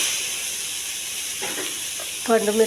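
Onions, ginger-garlic paste and red chilli fry in a pan as part of a broccoli curry, a steady soft hiss of sizzling oil close by, with a short voice cutting in near the end.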